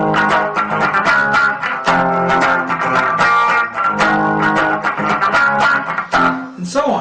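Distorted electric guitar power chords from a song, played with percussive muted chucks between strums from the fretting hand, loud, close and continuous with a steady driving rhythm.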